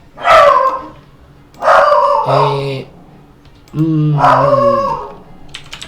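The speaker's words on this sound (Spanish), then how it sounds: "Omitan a la máquina de matar que está ladrando." A dog barks and howls in three drawn-out, whining bursts separated by short pauses, loud and close, alone without talk.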